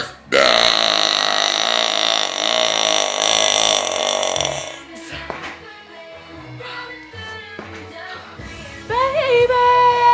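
A long, loud, drawn-out human burp opens the clip, followed by music playing with quieter vocal sounds and another short burp-like sound near the end.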